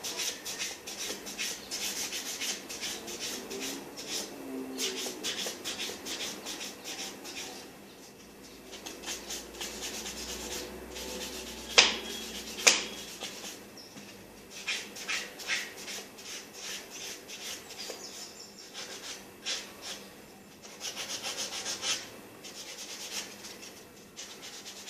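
Steady rasping strokes of a 100/180 grit nail file and a spongy buffer on a fingernail, close and quiet, continuing in a constant rubbing rhythm with a couple of sharp taps midway.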